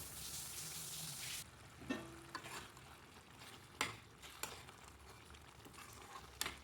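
Paneer gravy cooking in a pan, a soft bubbling sizzle that is faint and close, with a brief hiss at the start and occasional stirring clinks and scrapes scattered through.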